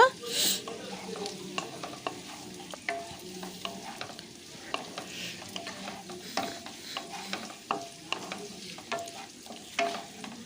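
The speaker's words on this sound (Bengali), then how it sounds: "ফুলকপিটা দেওয়ার পরেও একটু ভালো করে নাড়াচাড়া করে মিশিয়ে নেব" Fried cauliflower is stirred into Manchurian sauce in a pan: a soft continuous sizzle under frequent quick scraping and clinking strokes of a spoon, close and fairly loud.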